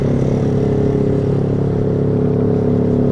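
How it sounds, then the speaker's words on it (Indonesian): Motorcycle fitted with a loud aftermarket racing exhaust being revved hard, a steady, dense, rasping engine roar held throughout at close range with no pause. "Ini knalpot racing digeber-geber gitu ya sama aja, berisik-berisik juga ya kan."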